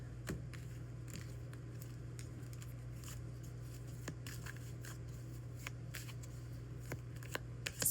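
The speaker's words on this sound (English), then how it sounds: "Let's go ahead and cut the deck." Tarot cards are shuffled and cut by hand, giving soft riffling clicks and light taps that come and go irregularly over a quiet background hum.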